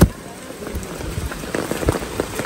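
Rain falling outside a rural house on muddy ground, a steady dense patter close by with brief louder splashes throughout.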